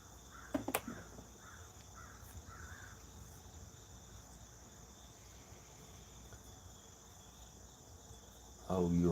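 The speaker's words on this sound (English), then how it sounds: "Stevie, did you put the crows on in the background for your weather report" Crows caw in the background at dawn, a few short calls early on over a constant chorus of crickets, with a louder burst of noise at the very end.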